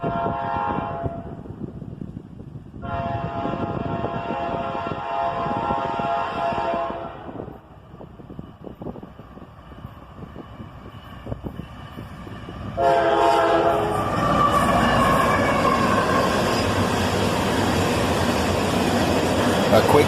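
A BNSF manifest freight train heading southbound behind a single AC44CW locomotive, its horn sounding in long blasts close by, then the roar of the passing train building and holding loud; a voice speaks briefly.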